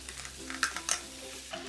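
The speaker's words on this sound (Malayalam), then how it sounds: "ഇനി ഇതിലേക്ക് നമ്മൾ ഈ ചോപ്പ് ചെയ്ത് വെച്ചിരിക്കുന്ന ടൊമാറ്റോ ഇട്ടിട്ട് ഇളക്കി കൊടുക്കാം." Chopped tomatoes stirred into a frying pan while cooking paneer masala, giving a soft continuous sizzle with a few brief scraping clicks of the spoon, close and fairly quiet.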